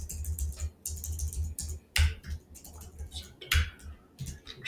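Rapid typing on a computer keyboard while writing code, the key clicks coming in bursts with a few louder strokes, close and steady with no voices.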